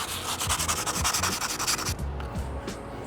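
Sandpaper worked back and forth over a cured Bondo patch on a crack, a close, steady rasping scrub in quick rhythmic strokes that eases slightly toward the end, with no talking.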